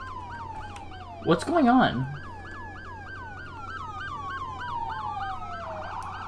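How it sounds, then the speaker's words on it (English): Many emergency vehicle sirens wail together in the Roblox game Liberty County, overlapping wavering tones rising and falling steadily throughout, with a brief burst of a voice speaking over them near the start. "This is a lot of sirens."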